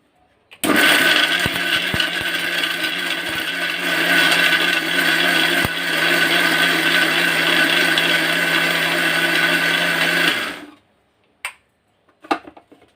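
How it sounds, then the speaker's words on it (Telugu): A mixer grinder whirs loudly and continuously for about ten seconds while grinding chutney with salt, then cuts off, leaving a few faint clicks and knocks. "మిక్సీ పట్టుకుందాం."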